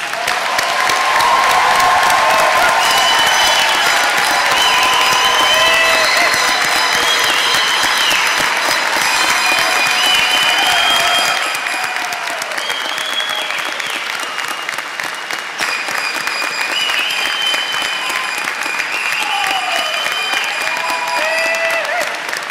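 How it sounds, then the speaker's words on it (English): A large crowd at a St. Thomas University spring convocation applauds graduates with long, continuous clapping and some cheering, holding steady for over twenty seconds. "Please join me in a round of applause for our graduates."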